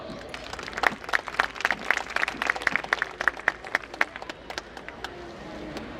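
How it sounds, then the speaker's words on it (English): A school annual function audience gives a round of applause, a scattered run of distinct claps, fairly quiet and sparse, thinning out toward the end with faint murmur in the hall. "Let's give them also a big round of applause."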